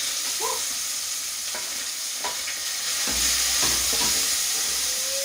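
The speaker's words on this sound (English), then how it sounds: "So our oil is hot. In goes our onions." Onions tipped into hot oil in a pot for a peas and potato stew, with a steady broadband sizzle and hiss that swells louder midway, plus a few stirring clacks and a brief rising whine near the end, with no talk.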